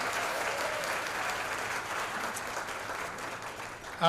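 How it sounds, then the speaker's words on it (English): Audience applause at a multi-chamber hunger action luncheon honouring a bank's 75th anniversary, a fairly distant, even wash of many clapping hands that carries on steadily, ending with a louder sound at the very close. "give them a nice round of applause"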